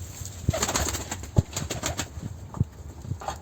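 Soft pigeon coos sound in low repeated pulses, three or four throaty calls spread across the stretch, over faint background rustle and chirps.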